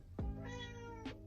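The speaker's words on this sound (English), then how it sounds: "That's my cat, sorry." A pet cat gives two short meows, the first stronger and the second briefer, close by in a quiet room.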